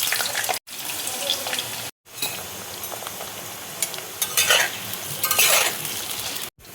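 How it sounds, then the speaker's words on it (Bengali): Potatoes fry in hot oil in a wok with a loud, continuous crackling sizzle. Scraping stirs and a few brief cuts in the sound break it up. "এবার আমি আলুটা দেখো ভেজে নিচ্ছি"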